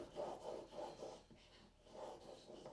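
A knife blade is drawn along a whetstone in a honing guide, giving repeated rhythmic rasping strokes, about four in quick succession, a pause, then more strokes, close and fairly quiet with no talking.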